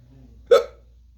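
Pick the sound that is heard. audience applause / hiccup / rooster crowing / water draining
hiccup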